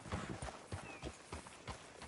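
Horse hooves galloping in the Red Dead Redemption video game, a rapid run of regular clip-clop beats at a moderate distance with no voices.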